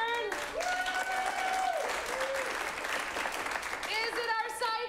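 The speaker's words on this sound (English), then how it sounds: "Clap for both, but louder for the one that you would like to continue." Improv comedy audience clapping to vote for a scene: a burst of steady crowd applause with a voice speaking over it, while musical tones play in the background.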